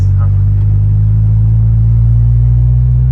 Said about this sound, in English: For some reason, the fucking exhaust is backfiring.